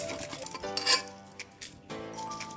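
Basmati rice tipped into a pressure cooker, a few clinking metallic knocks and a soft grainy rustle as it lands, close and fairly quiet with no talking.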